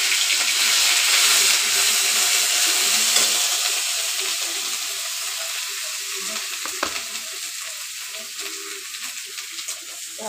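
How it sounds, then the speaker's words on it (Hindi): Ginger garlic paste frying in a pan with a steady, bright sizzle that is loud at first and gradually eases, with a faint clack of a utensil partway through. "अदरक लहसुन का पेस्ट डाल दिया है। अभी ये फ्राई हो रहा"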